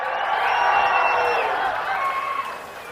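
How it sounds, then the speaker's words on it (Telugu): A large crowd at an outdoor political rally in Narasannapeta claps and cheers in a dense, continuous roar that is steady and loud before easing slightly toward the end. "అవునంటే గట్టిగా చప్పట్లు కొట్టండి"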